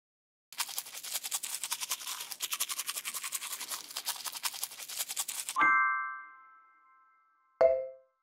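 Brisk repeated scrubbing strokes of a cartoon toothbrush in the World of Peppa Pig video game fill about five seconds, followed by a ringing chime and a short second ding.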